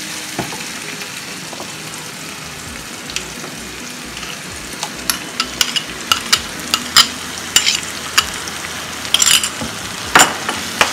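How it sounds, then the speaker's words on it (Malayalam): Ground masala paste being stirred into a hot pan for Goan prawn balchao, a steady loud sizzle and fry with scattered scraping stir strokes, no talk. "ഇനി നമുക്ക് നമ്മൾ അരച്ചു വെച്ചേക്കണം ആ സ്പെഷ്യൽ മസാല ഇതിലേക്ക് ആഡ് ചെയ്യണം."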